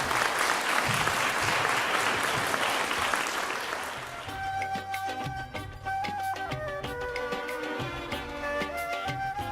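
A hall audience gives a warm round of applause for Dr. Hatem Bazian at a Palestine Nakba commemoration, loud sustained clapping for about four seconds before music takes over.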